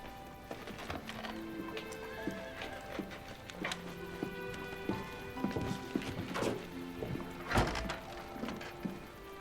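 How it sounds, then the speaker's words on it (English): Horse hooves clip-clop in a quiet, irregular series of knocks and thuds at moderate distance, over a soft, steady tonal background. "Jeff, will you get my horse?"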